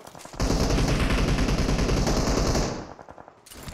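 Sustained automatic gunfire from an enemy firing from above in the BGMI battle royale game, a dense rapid burst close and loud for over two seconds before cutting off, then a softer tail.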